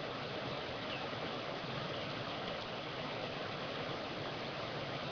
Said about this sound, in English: Love the sound of a flowing river.